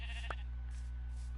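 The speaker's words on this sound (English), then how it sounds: "And here's another sheep." A single short sheep bleat from the video game Minecraft sounds over a steady low electrical hum, quiet and brief.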